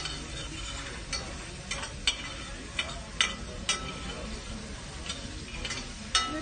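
Bacon fries in a pan with a steady dense sizzle, broken by regular scraping taps of a utensil stirring, close and continuous throughout.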